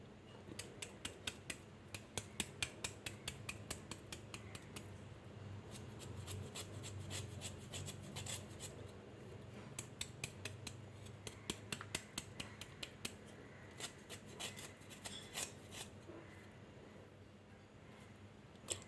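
Peeled ginger is chopped finely with a knife on a board: quick, irregular runs of light, crisp taps that come close together and fade off toward the end, with no talk.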